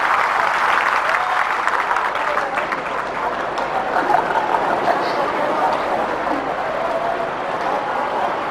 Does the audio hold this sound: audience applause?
yes